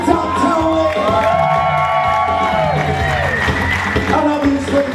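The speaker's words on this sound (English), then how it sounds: "Let's have a huge round of applause for Mr. Terry Possums and Mr. Tom Townley." An audience at a radio awards evening in an arts centre breaks into cheering and applause, with whoops and shouts rising over steady clapping for several seconds.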